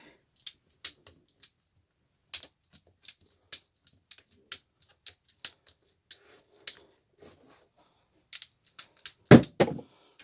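A ratcheting cable cutter works through a cable in a series of crisp, evenly spaced clicks, close and fairly quiet, ending in a louder cluster of snaps and crunches as the cut finishes.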